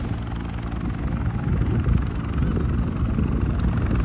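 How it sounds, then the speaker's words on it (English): A helicopter hovers over the beach at Coney Island during a search, its rotor making a steady, low thudding rumble mixed with wind noise and no talking. "if this helicopter stays on site here, they will delay the fireworks"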